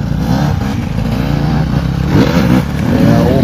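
Dirt bikes climb a hill with loud, close revving engines that rise and fall in bursts, with brief voices mixed faintly under the engine noise.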